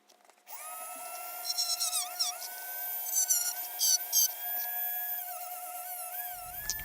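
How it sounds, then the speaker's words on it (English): High-pitched whine of a Dremel rotary tool grinding a handheld console screen-fitting part flat, steady and close, with speed dipping and rising as it bites, plus faint scraping bursts and no talk. "And the ever annoying but amazing Dremel tool."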